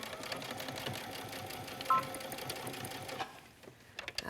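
A sewing machine hums steadily at close range while stitching a waistband, then slows and stops near the end with a few faint clicks.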